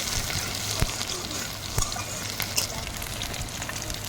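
Chopped onion, with bay leaf, frying in hot oil in a heated pan, a soft steady sizzle with a few light clicks and scrapes from stirring, fairly close and quiet, no talk.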